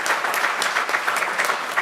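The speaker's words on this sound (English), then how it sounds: "Please give them an applause." Steady applause from a town council meeting audience fills the room for honoured youth athletes, a dense, even patter of many hands clapping with no voices over it.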